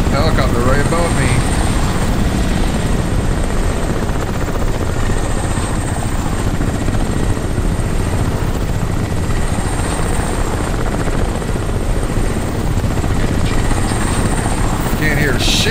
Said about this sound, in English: Helicopter right above me.